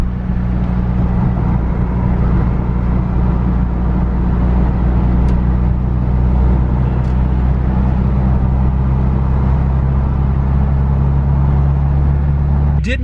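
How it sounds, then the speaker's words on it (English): A Mitsubishi Evo 8 engine idles loudly and steadily just after a cold start, its low rumble unbroken and close, with a faint click near the end. "Oh, that cold start though."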